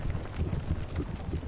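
Hooves of a four-horse carriage team clip-clop in a quick, continuous rhythm, close and fairly loud, filling the short moment with no voices.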